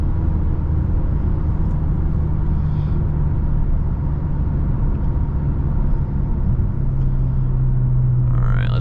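A 2014 Honda Accord Coupe V6 on the road, heard from inside as a steady low engine and road rumble that holds evenly throughout, with a slight shift in engine note near the end and no talking.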